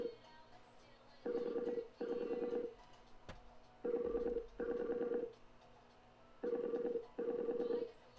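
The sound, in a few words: phone ringing sound in a Marvel video game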